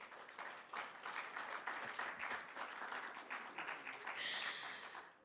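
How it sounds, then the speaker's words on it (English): An audience at a journalism awards ceremony applauds itself with steady, dense clapping that holds for several seconds. It sounds fairly distant and soft, with no talking over it. "Can everyone give a round of applause to yourselves?"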